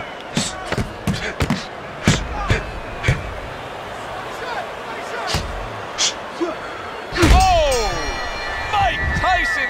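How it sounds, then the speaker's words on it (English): A boxing bell in the Fight Night Round video game rings near the end of a round, a bright metallic clang with long ringing overtones that follows a run of sharp punch thuds, with a commentator talking over it. "And there's the bell. He is saved by the bell."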